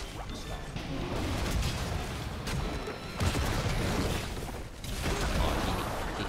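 Chaotic Overwatch combat with rumbling blasts and crashing impacts, dense and continuous, with brief dips between bursts.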